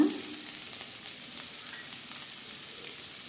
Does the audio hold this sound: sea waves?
no